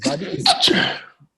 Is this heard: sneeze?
yes